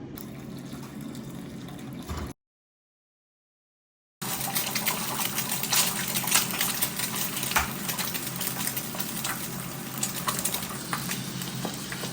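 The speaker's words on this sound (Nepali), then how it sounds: "मैले चाहिँ भाँडा बसाइसकेँ, अब यसमा पानी हाल्छु उम्लेको।" Boiling water gushes steadily into a pot for hot pot, a continuous hissing pour after a moment of silence.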